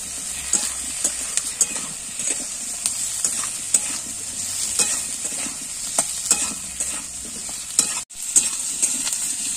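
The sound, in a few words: stirring tomatoes and green chilies frying in pan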